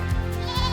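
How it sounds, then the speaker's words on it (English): A goat gives a short, close bleat at a newly built goat barn on a farm, a single wavering call over a low steady background hum. "You think the goats like their new setup? Look at that, here they come."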